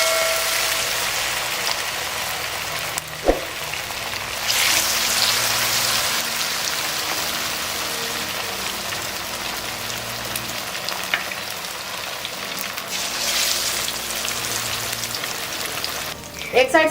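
Fish pieces deep fry in hot oil for a Lahori masala fish fry, giving a steady close hiss and crackle like rain that swells as pieces go in, with brief low knocks and some talk at times.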